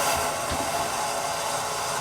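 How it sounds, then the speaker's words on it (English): A clothes dryer runs steadily at home, giving a continuous low hum with a broad, airy whir. It stays at an even level throughout, with no talking. "the low hum is the dryer."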